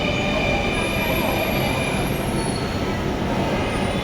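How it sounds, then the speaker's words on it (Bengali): A metro rail train pulls into a station platform, a steady loud rumble of rolling wheels with a thin high squeal running above it, continuous and close throughout. "মেট্রো রেল চলে আসছে, মেট্রো চলে আসছে,"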